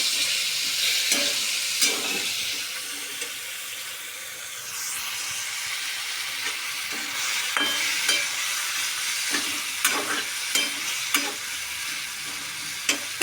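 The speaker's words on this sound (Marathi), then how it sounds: "आणि टोमॅटो तर आता आपल्याला हलवून घ्यायचे." Tomatoes frying in a pan for chutney, a continuous hissing sizzle punctuated by repeated scraping and tapping strokes of a spoon as they are stirred, loudest toward the end.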